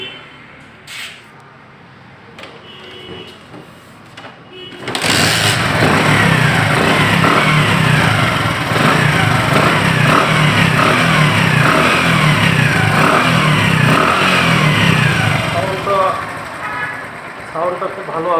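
A Bajaj Platina 100cc motorcycle engine starts after a quiet pause and then idles and revs loudly and steadily close by, with a voice talking faintly underneath.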